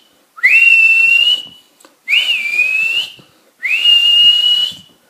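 Shrill finger whistling rings out in three sustained blasts, each sweeping up to a steady high pitch and holding for about a second, close and loud, with short silent gaps between them.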